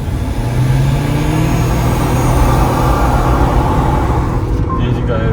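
Haval Jolion HEV and Nissan Note e-Power hybrids accelerating side by side in a roll race from 30, a steady, loud engine and road drone heard from inside the car, fading slightly at the very end.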